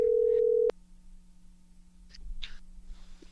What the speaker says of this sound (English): And now, Jeff, let's get on the phone with our friend, Marsha St. Hubert.